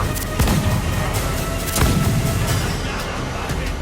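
Ship cannons firing during a naval battle in Assassin's Creed 4 Black Flag, two heavy booms standing out over a dense, rumbling roar of battle noise and sea.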